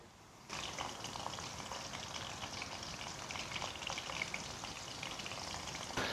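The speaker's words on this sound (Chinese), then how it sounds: "下锅定型过后，用中小火给它慢慢的沁炸，把这个肉里面炸熟炸透" Pork tenderloin strips deep-fry in oil, starting with a sudden dense crackling burst that settles into a continuous loud sizzling bubble, close and steady, with no voices.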